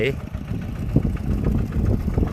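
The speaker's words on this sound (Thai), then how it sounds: "ตอนนี้ เรามาดู รถไถ" A tractor engine runs steadily in a rice field in Laos, with a low continuous rumble sustained throughout and faint voices underneath.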